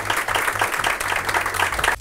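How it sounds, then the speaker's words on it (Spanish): An audience at a debate event in Rosario claps steadily, a dense, even patter of many hands that lasts about two seconds before stopping abruptly. "un aplauso general para la conclusión"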